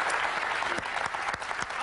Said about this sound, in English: A thunderous round of applause for this woman